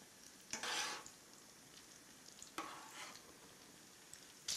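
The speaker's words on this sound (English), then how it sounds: "once the bubbling's over, they'll just fry normally again" Frittelle frying in hot oil while being stirred and turned, with soft crackling sizzle and two louder bursts of bubbling and scraping, close and steady, without talk.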